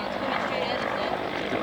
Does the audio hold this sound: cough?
no